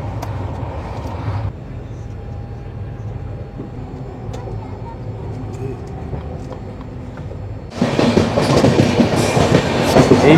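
Steady rumble of the New Delhi–Howrah Rajdhani Express rolling on rails at night, a low continuous drone that turns louder and harsher near the end with broadband rattling, no talk over it.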